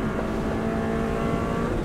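Subaru WRX STI flat out on the Isle of Man TT road course in 2014, its engine roaring loud and steady at high revs, close and continuous with no talk.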